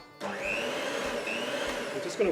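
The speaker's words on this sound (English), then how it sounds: "give that a bit of a mix to get some air in there" An electric whisk starts abruptly and buzzes steadily at close range while beating milk and oil together for vegan muffin batter, with a few bumps of the beaters against the bowl.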